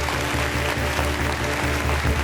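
Steady audience applause at a bikutsi music show, a dense continuous wash of clapping for the performer, even in level and with no clear speech over it.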